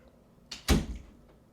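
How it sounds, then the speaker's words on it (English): A door is pushed shut with a single soft thud and a brief rattle, close by in a quiet room. "Close the door."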